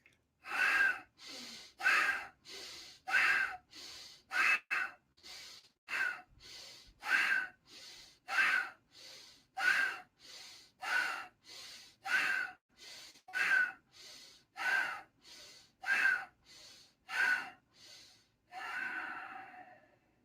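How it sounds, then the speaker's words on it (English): Forceful pranayama exhalations out through both nostrils, about two dozen sharp, evenly paced breathy bursts close by, each a quick rushing puff, ending with a longer, softer release. "With the back straight, chin to throat, 15 out both."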